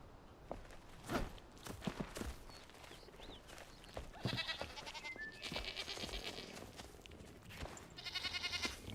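Goats bleat repeatedly in the survival video game Enshrouded, with a few loud, wavering cries rising over steady footsteps and ambient game noise.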